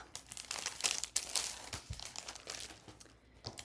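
Chipboard sticker packaging being opened: crisp plastic crinkling and crumpling with several sharp tearing bursts, close up and fairly quiet, no voices.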